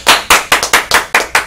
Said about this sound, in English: Round of applause, Jordy